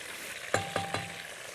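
Kebab skewers frying in hot oil are stirred, giving three brief scraping clinks spaced about a fifth of a second apart over a steady soft sizzle, fairly close and quiet.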